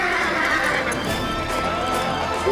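A horse whinnies loudly while hooves clop along beneath it, set in a historical drama about Rani Lakshmibai of Jhansi, with the neigh dominating and steady hoofbeats underneath.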